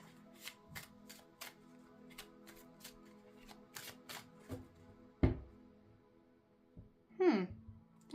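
A deck of oracle cards is shuffled by hand in a quick series of crisp riffling bursts, followed by a couple of louder thumps and a soft exhale near the end.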